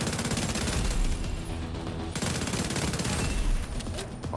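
Dense, continuous automatic gunfire blasts a turret apart in a video game, with sustained rapid bursts throughout and a sharp break partway through before the barrage resumes, loud and close.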